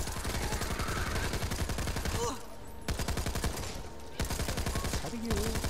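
Sustained gunfire from Back 4 Blood fills the scene, a dense rapid burst of shots with brief pauses, loud and close, while players talk over it.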